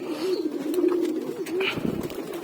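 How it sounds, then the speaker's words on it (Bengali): Pigeons coo steadily in a low, continuous murmur while feeding, the soft rolling calls close by and filling the whole stretch with a faint scratchy background. "কবুতরগুলো খাবার খাচ্ছে,"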